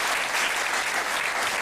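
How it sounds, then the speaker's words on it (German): Studio audience at a German talk show bursts into dense, steady applause, loud and close, with no voices over it. "Ja, da geb ich dir Applaus, Alfred, das geb ich dir."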